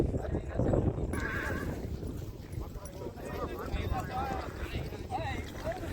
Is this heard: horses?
yes